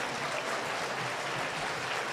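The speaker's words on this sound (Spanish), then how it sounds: "Fuerte el aplauso para el doctor Ricardo Cous Araníbar" Applause at a talk on community tourism management, a soft, even wash of clapping from the audience, somewhat distant and uniform with no distinct individual claps.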